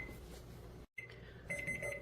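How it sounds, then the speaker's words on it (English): A kitchen timer being set for five minutes while tea brews gives short, bright electronic beeps, quiet and close, over a low steady kitchen background with a brief drop to silence midway. "So I'm going to set the timer for 5 minutes."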